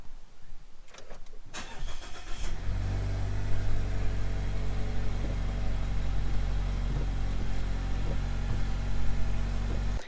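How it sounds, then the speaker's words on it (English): A Mazda CX-5 engine cranks and catches, then settles into a steady, loud low idle that runs to the end with faint clicks over it. "we're just going to start the car and we're going to depress that brake pedal a few times"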